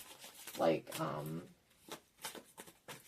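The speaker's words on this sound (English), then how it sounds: "I could sit here and shuffle and like pull a card whenever I feel like" Tarot deck shuffled by hand in a quiet room, a few soft papery riffling bursts spaced across a few seconds, close and fairly quiet, with a voice speaking alongside.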